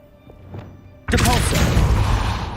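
A Wingardium Leviosa spell in a Harry Potter video game: after a faint quiet lead-in, a sudden heavy magical thud erupts and rolls on as a loud, dense rumble with swirling shimmer.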